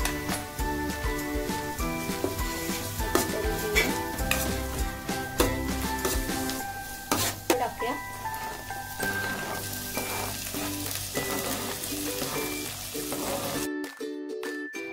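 Chopped onions fry in a pan for chole masala as ginger-garlic paste goes in, a loud continuous sizzle broken by stirring scrapes and clinks, close up, ending in a brief quiet gap.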